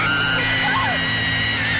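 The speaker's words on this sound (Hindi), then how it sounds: "अचानक वो औरत एक भयानक चीख के साथ अनामिका के ठीक सामने आ गई" A woman's long, shrill scream used as a horror story sound effect, loud and held with a wavering pitch over a dense, noisy background.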